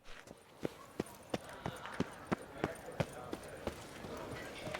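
Horse hooves clop at a steady walking pace in The Witcher 3: Blood and Wine, with a regular beat of distinct hoof strikes over a soft, continuous background ambience.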